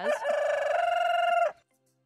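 A rooster gives one loud, close cock-a-doodle-doo crow lasting over a second, then cuts off into near silence.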